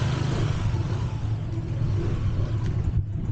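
A motorcycle rides along a road with a steady, loud engine rumble throughout, no clear pass-by swell, and a slight dip near the end.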